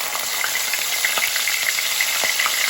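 Onion paste fries in oil with cumin seeds in a pan, giving a steady, dense sizzle with a few soft stirring scrapes, close and continuous without any voices.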